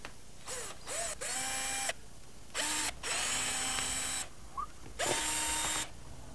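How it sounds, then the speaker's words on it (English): A power drill whirs in several short bursts, spinning up and down with brief pauses between, fairly close and with no talking. "Just grab my old trusty drill."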